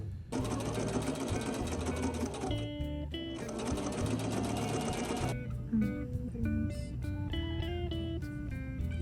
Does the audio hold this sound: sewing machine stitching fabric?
yes